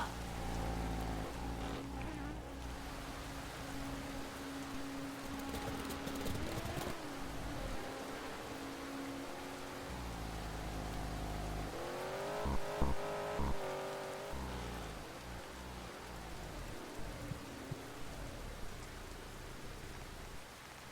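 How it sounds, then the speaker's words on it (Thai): Heavy rain falls in the Roblox Touring Car Racing video game. A steady, dense hiss runs throughout, with a low car engine rumbling underneath and a brief louder burst partway through. "แล้วฝนตกอย่างหนัก"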